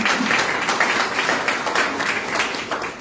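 A congregation breaks into loud applause during a Spanish-language sermon, continuous clapping with some crowd noise, fairly close and steady for the whole stretch.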